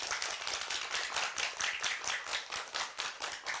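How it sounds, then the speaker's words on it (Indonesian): Audience applause for DTA Al Istiqomah, a school group in Kejaksan, Cirebon, at a Gelora Cinta Rasul event: steady, dense clapping from many hands that holds for several seconds without a break. "Saya boleh minta tepuk tangannya untuk DTA Al Istiqomah."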